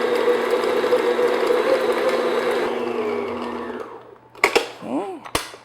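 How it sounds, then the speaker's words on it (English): Electric hand mixer beating butter for chocolate sugar cookies, a steady buzzing whir that winds down and stops, followed by clanks and scraping sounds. "So the first thing I'm going to do is just beat the butter just for maybe 30 seconds"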